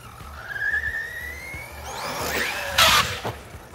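A Corally Big Block RC car running laps on a 6S battery gives off a high, rising electric motor whine that climbs in pitch. A loud burst of tire skid follows near the end, with no voices present.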